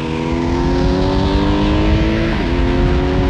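A loud engine roars steadily with rising pitch, close up and continuous, as a motorcycle accelerates hard on a coastal road.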